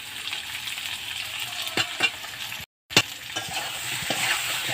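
Ground spices and grated ginger go into a pan for a Bengali fish curry with potatoes and lentil dumplings, frying with a steady sizzle, broken by stirring scrapes and a brief silent gap.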